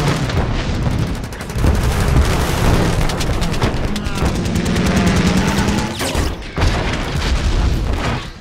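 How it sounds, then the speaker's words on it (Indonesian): Rifle and anti-aircraft gunfire aimed at fighter planes during a kamikaze air attack, heard as loud, dense rapid bursts and booming shots that fire continuously in close succession. "Pasukan yang hanya bisa mengambil senapan mulai menembaki pesawat tempur dengan senapan mereka"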